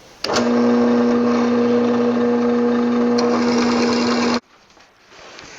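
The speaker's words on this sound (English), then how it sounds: "Here I'm drilling the holes through the handle." A power drill whirs loudly at a steady pitch for about four seconds drilling holes through a knife handle, then cuts off abruptly, leaving quiet room tone.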